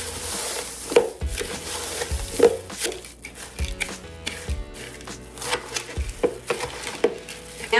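A homemade granola mixture with Rice Krispies is stirred in a bowl, giving scraping and clattering strokes in an irregular rhythm, close and moderately loud, with no voices.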